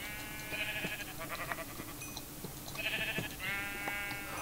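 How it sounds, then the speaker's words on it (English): Several sheep bleat in a video game, a few wavering calls arriving in short bursts over a quiet background, with no speech. "There's a ton of sheep."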